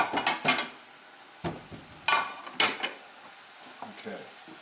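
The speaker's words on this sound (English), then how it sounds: "Get these plates out of the way. These dishes out of the way." Plates and dishes being moved aside in a home kitchen produce several sharp ceramic clacks and clinks in irregular bursts, close and fairly loud, with quieter rattles in between.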